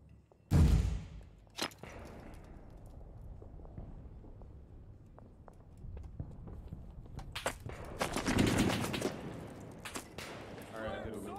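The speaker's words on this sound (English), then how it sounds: "There's a lot of gunfire coming from that direction." Distant machine-gun fire in the video game Six Days in Fallujah cracks sporadically, with a loud burst near the start and a denser cluster of shots later, amid background noise and muffled voices.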